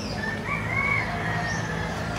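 A rooster, one of several being raised for slaughter, crows in a single drawn-out call at moderate distance over a steady noisy background.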